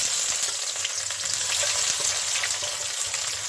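Onion goes into hot oil already tempered with cumin, dried red chili and bay leaf for chicken jhol, giving a loud, dense, continuous frying sizzle that holds steady throughout.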